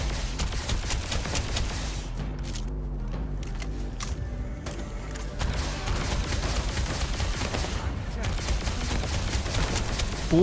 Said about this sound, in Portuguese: esse aqui atirando rápido fica bom pra caralho essa arma